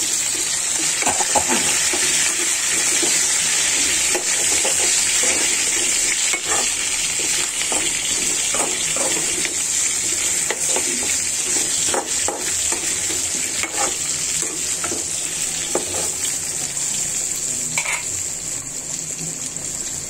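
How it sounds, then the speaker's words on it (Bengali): Potatoes frying in a pan for a country chicken curry, a loud continuous sizzle broken by the scrape and clatter of steady stirring throughout, with no talk. "এদিকে আলুটা আর একটু ভেজে নিচ্ছি"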